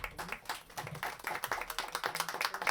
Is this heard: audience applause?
yes